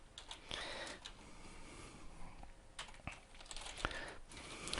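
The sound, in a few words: typing on a computer keyboard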